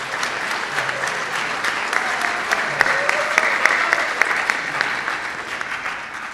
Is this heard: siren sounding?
no